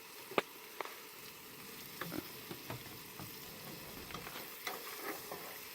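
Meat fries in a hot camp pan outdoors, a steady soft sizzle with small pops and clinks as pieces are added and stirred, fairly quiet and without talk.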